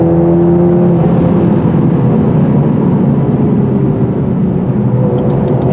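A 2023 Mercedes-AMG SL 43 Roadster drives a curvy, twisty road, its engine droning loud and steady with a rising whir and rushing road and wind noise throughout.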